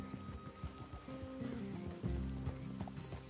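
Horse hooves clip-clopping in the video game Red Dead Redemption 2, with uneven close hoof falls, a brief whinny and faint background ambience.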